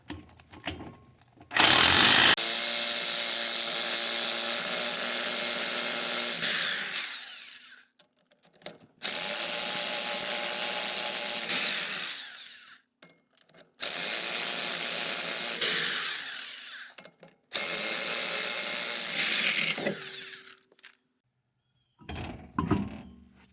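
Impact wrench or power socket tool spinning off the rear wheel lug nuts of a 2018 Nissan Versa, several loud, sustained whirring bursts of a few seconds each separated by short pauses, close by.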